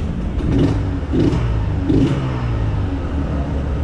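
A Yamaha DT 200 motorcycle engine idles loudly up close, with about three short revving swells rising and falling early on before settling back to a steady idle rumble.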